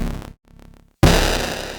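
Drums for a track: a loud, crunchy, distorted hit with a short gap of quieter stuttering hits, then a big booming impact that rings on, all close and without speech.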